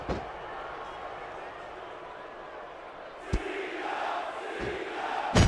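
A capacity crowd roars in a wrestling arena in SvR 2006 on PS2, a dense continuous crowd noise under game commentary, broken by sharp slams of a ring impact.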